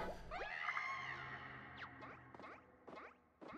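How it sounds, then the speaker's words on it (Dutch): Toad from the video game Paper Mario: The Origami King lets out a high, wavering scream, followed by a run of bouncy, sweeping cartoon sound effects, with game music beneath. "Ze wordt helemaal gek, deze Toad. Bommie zegt, kom nou, je kan niet zomaar gaan gillen"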